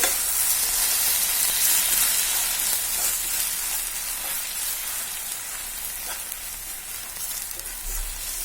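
Bananas stirred into caramelized sugar in a hot pan, giving a steady, bright sizzle with faint scraping of the stirring, close and continuous with no talking.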